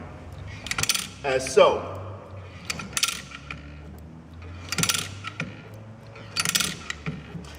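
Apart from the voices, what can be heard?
aircraft dolly jack being cranked down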